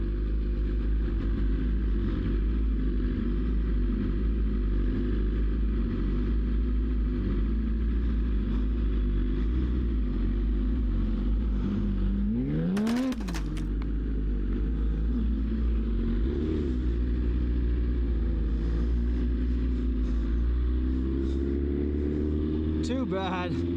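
A Porsche engine rumbles steadily in a dirt lot, with a rising rev partway through and another climb in pitch near the end as the car pulls away, heard as a continuous loud drone.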